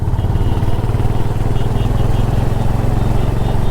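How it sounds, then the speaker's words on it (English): A motorcycle engine drones loudly and steadily close by as it accelerates uphill in third gear on throttle alone, a low throbbing roar that holds without letting up. "without even touching the clutch, if I just throttle"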